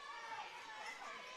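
Crowd noise fills a school gym during a youth basketball semifinal, a steady, dense wash of cheering and chatter with no break.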